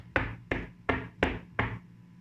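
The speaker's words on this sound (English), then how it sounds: "he walked up to the door and knocked" Five firm knocks on a wooden door, evenly spaced about half a second apart, close and distinct in an otherwise quiet room.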